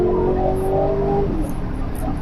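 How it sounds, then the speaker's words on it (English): An Aston Martin DBX engine rumbles under acceleration, a loud, close, continuous low growl with a tone that rises briefly and then settles. "So, I'm getting a bit more burble here."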